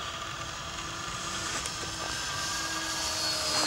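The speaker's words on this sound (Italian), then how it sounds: "È la coppia dei motori, Tony." Electric motors of a Hangar 9 Twin Otter RC model plane give a steady, fairly faint whine with a thin sustained tone, continuous and unbroken throughout.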